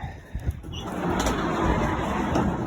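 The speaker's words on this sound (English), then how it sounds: "now I'm going to shut this door" A door slid shut in a farm barn, a few light knocks followed by a sustained rolling, scraping rumble as it travels along its track, fairly close.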